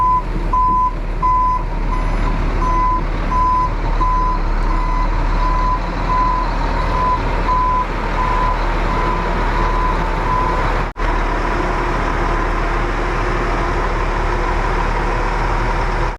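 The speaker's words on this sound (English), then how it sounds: "So let's compact it with the truck, and then we'll do the fine-tuning work." A truck compacting soil on a grading job reverses with its backup alarm beeping steadily in a regular pulse over a loud, constant engine drone, close by and with no talk.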